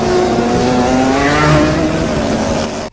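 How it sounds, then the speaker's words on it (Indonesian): Motorcycles race on a highway, engines droning loud and close with a steady, slightly rising roar that holds for about three seconds, with no voices. "Asep mengajak Bayu untuk melakukan balapan motor."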